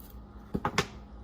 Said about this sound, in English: let's go ahead and cut this sprue piece like that